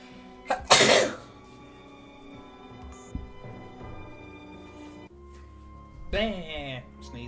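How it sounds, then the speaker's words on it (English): A person sneezes once, loud and sharp, during play of the video game Digimon Survive, with a background of game music and voices speaking around it. "I did a sneeze."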